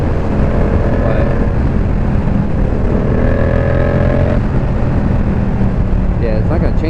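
A Yamaha MT-07 motorcycle engine humming steadily at about 3,000 RPM while riding, loud and constant with heavy wind rush, a slight pitch rise midway.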